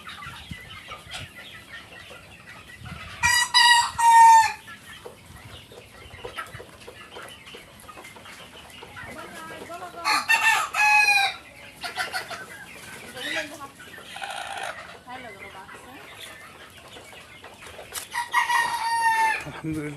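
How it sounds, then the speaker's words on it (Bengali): Fayoumi chickens on a farm in the afternoon: a rooster crows three times, clear and fairly close, with soft clucking and farmyard murmur between the crows. "এটা হলো ফাউমি মুরগি।"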